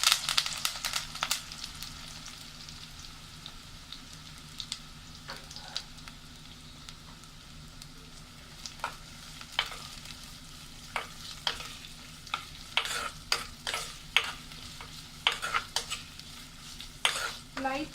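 Sliced onions, green chillies and curry leaves sizzle steadily in hot oil, with a soft frying hiss under scattered sharp scrapes and taps as a spoon stirs the pan.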